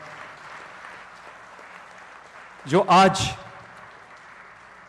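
A large audience claps steadily at a government foundation-stone ceremony in Rajasthan honouring the Prime Minister. The hands make a continuous, moderately distant wash of sound while a voice briefly speaks over it.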